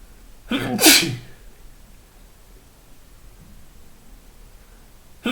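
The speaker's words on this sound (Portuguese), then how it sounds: "Estou com rinite, aí eu fico espirrando de vez em quando." A person with rhinitis lets out a single sharp, loud sneeze near the start, then only faint room hiss follows.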